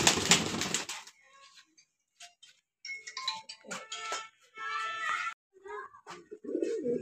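Soft bird calls from breeder pigeons, brief cooing and fluttery chirps in short bursts, close by, with a louder noisy burst at the start and quiet gaps between.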